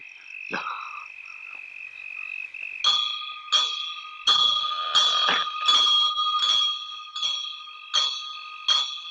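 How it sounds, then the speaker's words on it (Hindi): Repeated metallic bell strikes ring out in a steady rhythm, each with a bright sustained tone, after a quieter opening of scattered chimes. "तुम दोनों घंटी बजाते रहना।"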